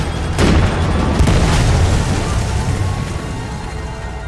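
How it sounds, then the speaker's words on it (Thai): Explosion in Far Cry 5: a loud boom followed by a second burst about a second later, then a long rumbling, crackling tail fading out. "ระเบิดเลยอุ้ย"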